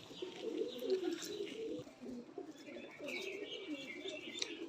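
Pigeons coo softly and continuously nearby, with a few faint chirps mixed in over a quiet background.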